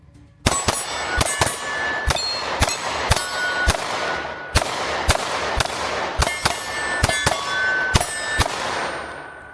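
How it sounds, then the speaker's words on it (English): A SIG P365 XMacro pistol fires about fifteen sharp, ringing shots in fast, slightly uneven bursts, each crack loud and close with a short metallic decay, no voices between them. "Now we're going to try the SIG P365 XMacro. Let's see if I can shoot this one fast."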